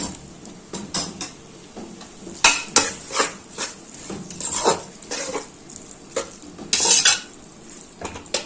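Pasta in tomato sauce stirred in a pot with a spoon, home-cooked economical lunch: irregular clinks and scrapes of utensil against the pot with soft wet sloshing, close and moderately loud, no talking.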